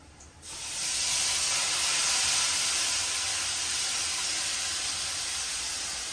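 Tamarind water poured into onions frying in hot oil for a Sri Lankan fish curry, giving a loud, steady sizzling hiss that flares up within the first second and holds broadly for several seconds with no voices.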